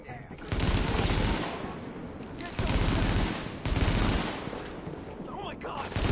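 Video game gunfire as police-style units clear rioters: three heavy bursts of rapid automatic shots, each lasting about a second, separated by quieter stretches of lingering noise.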